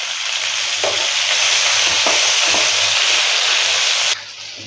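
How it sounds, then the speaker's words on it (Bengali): Taro stolons (kochur loti) with turmeric sizzle and fry steadily in a hot pan, a dense continuous hiss with a few stirring knocks, loud and close, cutting off abruptly near the end to a quieter simmer. "এইবার এটাকে ভাজতে হবে।"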